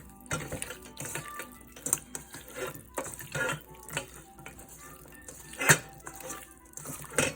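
Ingredients with olive oil are stirred in a pot, with a spoon clanking and scraping against the metal in irregular bursts alongside faint watery sloshing; no one speaks.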